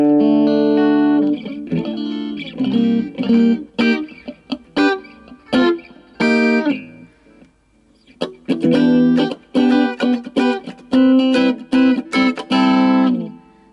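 Yamaha Pacifica 112 electric guitar played with the pickup selector in an in-between position, a series of bright, quacky strummed chords and picked notes with sustained ringing, a short pause midway, then more chords, heard alone.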